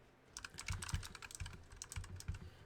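Typing on a computer keyboard, close and fairly quiet, with a quick irregular run of key clicks and a few heavier thuds, alone without talk.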